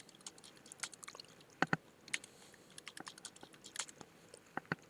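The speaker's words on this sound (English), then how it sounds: "type in a password" Quiet keystrokes on a computer keyboard as a password is typed during a Windows server setup, with scattered soft clicks and a few sharper taps in an uneven rhythm, no talking.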